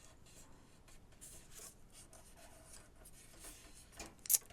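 A book page is folded and creased into a coin envelope: soft rubbing and scraping of paper, low and close, ending with one sharper crisp rustle.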